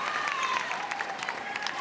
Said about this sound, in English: such is the noise from this England crowd